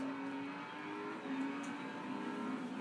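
Racing car engine in a driving video game, a steady sustained drone with harmonic tones at fairly constant pitch, held throughout without breaks at moderate level.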